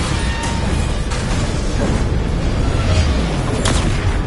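Bombarda blast spell in Hogwarts Legacy combat, booming explosions amid steady rumbling game noise with several bursts and pops, loud throughout with no talk.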